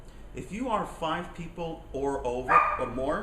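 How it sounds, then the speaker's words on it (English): A dog locked out on a balcony barks and yips repeatedly in rapid bursts, loud and close, alongside a person speaking. "sorry, that's just my dog."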